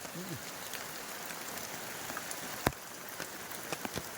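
Steady rain hisses across a surface, with occasional louder drops smacking nearby and a faint voice briefly heard early on.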